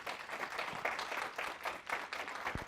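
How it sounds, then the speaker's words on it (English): Scattered applause from a conference audience at a Nagios World Con talk, fairly faint and thin, a steady patter of claps with one sharp low knock near the end. "Give him a big round of applause."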